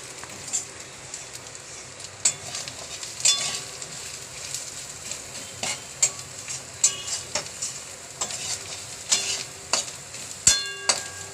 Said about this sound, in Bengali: তো এটা দিয়ে মশলাটা একটু কষা হবে, এটা একটু কষা হোক।